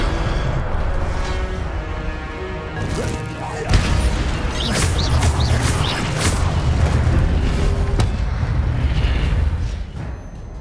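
Incendio fire spell cast in Hogwarts Legacy, with loud, dense crashing blasts and whooshing fire roars over continuous combat noise, including a sharp impact partway through.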